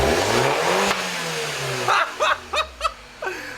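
An R56 Mini Cooper with a downpipe exhaust holds a loud idle, then rises and falls through a smooth rev before four quick, sharp throttle blips, each dropping back toward idle.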